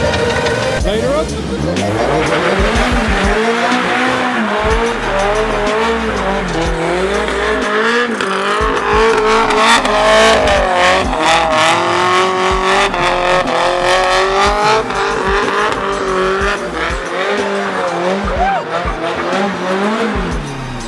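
A Nissan Silvia S13 does burnouts, its engine roaring loud and steady while the tires squeal and skid continuously for about twenty seconds, with voices heard over the noise.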